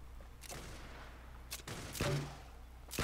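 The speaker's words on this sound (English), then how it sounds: "I'm gonna take out the grenade launcher." Grenade launcher fire in the Fortnite Battle Royale video game: several sharp, loud blasts come in an irregular sequence, with a heavier burst near the end over steady low background rumble.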